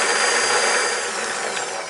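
An electric mixer runs steadily, mixing flour, salt and extra virgin olive oil for Chicago-style stuffed pizza dough, a close, continuous whirring drone with no talk.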